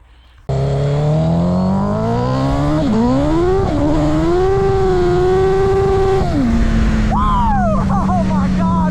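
A dirt bike fitted with a GSXR1000 engine revs hard and loud nearby, its pitch climbing and dropping through several gear shifts with a quick rev blip near the end, while voices talk faintly underneath.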